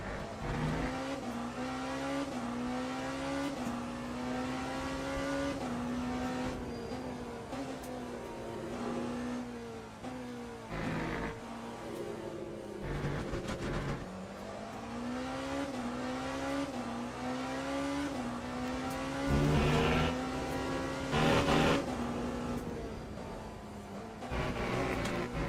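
Hypercars racing in the video game Le Mans Ultimate, with continuous loud engine drones rising and falling through gear changes and downshifts, several cars overlapping, occasional tire squeal.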